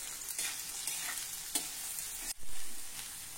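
Chopped onion fries in a pan with a continuous hiss, broken by stirring scrapes and a few clinks of the spoon. One louder clatter comes near the end. There is no talk.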